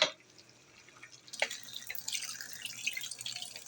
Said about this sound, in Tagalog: Kumukulo na ang ating niluluto.